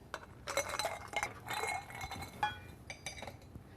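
Ice cubes clink and knock against a wine glass of Lillet on the rocks, a quick run of close, bright taps and chimes with no one talking.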